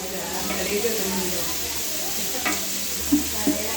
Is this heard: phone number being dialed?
no